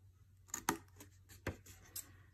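Scissors cutting along a marked fold, a few quiet, sharp snips spaced apart against near silence.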